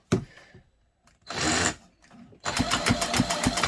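Rapid sharp snapping from the ignition spark of a McCulloch 91 kart engine, a close, loud run of crackling pulses after a few brief separate bursts, with no talk over it.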